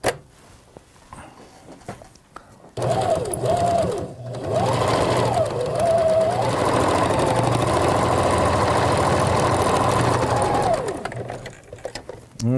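A sewing machine tacks down leather in one loud, continuous run of rapid, even stitching hum that lasts most of the clip. Softer handling sounds come before it starts.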